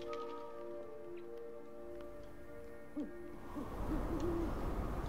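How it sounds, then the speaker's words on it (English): Owl hooting in the Never Alone video game, a few soft low hoots in a quiet forest scene, followed by a rising wash of wind-like ambience. "I hear an owl."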